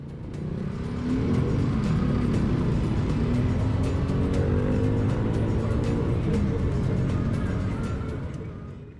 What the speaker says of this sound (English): I'm not sure why there's so much traffic over here today.